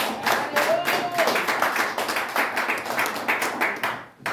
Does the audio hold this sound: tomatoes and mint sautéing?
no